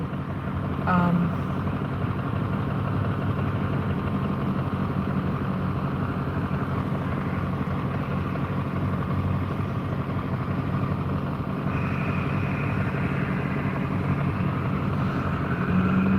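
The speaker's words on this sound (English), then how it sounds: "there's a lot of traffic here" Road traffic passing steadily, a constant broad rumble of cars and engines that continues without a break at moderate loudness.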